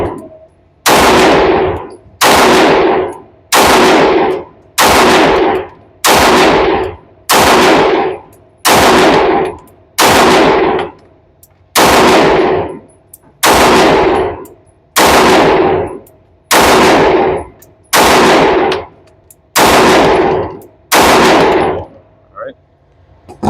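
Fourteen loud, sharp gunshots from a Sig P365 AXG pistol ring out at a shooting range, fired one at a time at a slow, steady pace, each with a short echoing tail.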